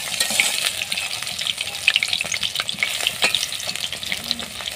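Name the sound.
helencha leaf fritters frying in a pan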